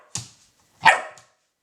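An 11-week-old black Labrador puppy gives two short, sharp barks on command, the second louder and fuller, with a quiet pause between them and no talking.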